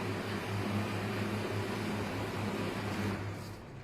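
An SF22 book folding and stitching machine running in fold-only mode, giving a steady, loud mechanical hum and whir with low tonal drone throughout and no voices.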